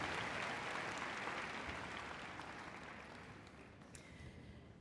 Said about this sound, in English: Nice big round of applause for Roy and Corrie.